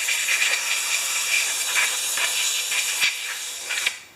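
Gas hisses steadily out of a Pender lift during cleaning of its bowl, a loud broadband rushing spray that holds for about four seconds with small pulses before tapering off at the end.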